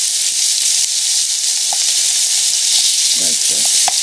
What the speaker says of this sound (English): And now we just brown that